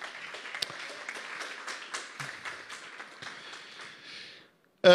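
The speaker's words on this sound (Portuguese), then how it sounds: "Pode dar um aplauso a Deus pela sua palavra?" A church congregation claps together for several seconds, a steady dense patter that fades out before a voice briefly cuts in at the very end.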